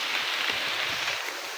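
Rain patters steadily onto a single leaf held overhead outdoors, a dense close hiss of drops with no voices, even in loudness from start to finish.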